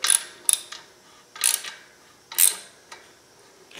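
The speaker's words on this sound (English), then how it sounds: "Every now and again, you can check your alignment tool. Make sure that it still slides in and out nicely." A clutch alignment tool slides in and out of a small-block Chevy V8 clutch and pressure plate, making about six short metallic scraping and clicking strokes in an irregular rhythm, close up and otherwise quiet.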